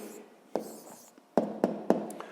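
A pen writing out a math answer by hand, heard as several sharp taps and short scratchy strokes at an irregular pace, close up and fairly quiet, with no talking.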